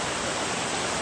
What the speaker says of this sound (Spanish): Este río nace en la montaña de República Dominicana. Es un agua totalmente transparente.